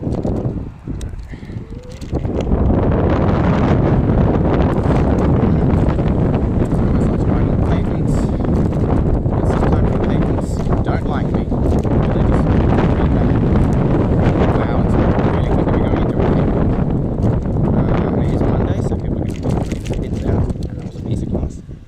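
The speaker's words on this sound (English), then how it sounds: "It's really windy as well." Heavy, constant wind buffeting a microphone while riding an electric scooter, a loud low roar that starts after a short quieter moment and persists throughout.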